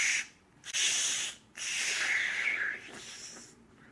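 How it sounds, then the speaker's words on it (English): A spray can hisses in three short bursts separated by brief pauses, close and fairly quiet, with no voices. "That's a spray can, by the way."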